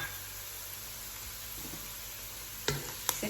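Spicy corned beef with chili flakes and salt stirred in a pan, a soft steady sizzle with a couple of sharp scraping clinks of the utensil near the end.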